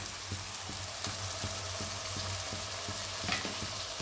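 Banana flower masala with coconut sizzling and frying steadily in a pan after a splash of water, a continuous crackling hiss with faint stirring taps, no one talking.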